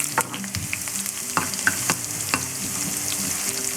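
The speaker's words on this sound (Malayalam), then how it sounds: "നമുക്കതിലേക്ക് ഉള്ളി ചേർത്ത് വഴറ്റിയെടുക്കാം." Onions sautéing in coconut oil with popped mustard seeds in a pan, giving a continuous close sizzle with scattered sharp crackles and the scrape of stirring, and no voices.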